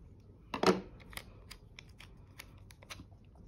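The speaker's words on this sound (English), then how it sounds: "So let's just do a little bit of cutting here." Scissors snip through planner stickers with one louder, sharper cut near the start, followed by a run of small, quiet, crisp snips.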